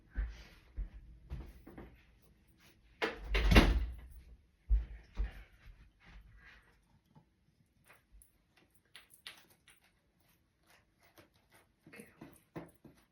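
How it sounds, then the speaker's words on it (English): Indoors during a Halloween spell book craft session, a door swings and thuds shut with a loud knock, amid scattered small ticks and handling clatter in a quiet room. "let me shut the door"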